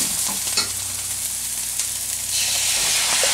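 Scrambled eggs frying in an oiled pan, stirred as they cook, give a steady close sizzle and hiss with soft scraping, getting a little louder near the end.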